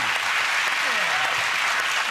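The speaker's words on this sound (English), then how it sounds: "round of applause" A studio audience at a televised comedy quiz show claps in a dense, steady round of applause that holds at an even volume throughout, with no break.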